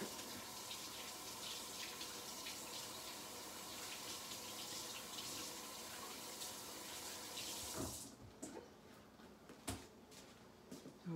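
Tap water runs steadily into a sink for several seconds as dough is washed off hands, then the flow stops, leaving a few faint drips and clatters.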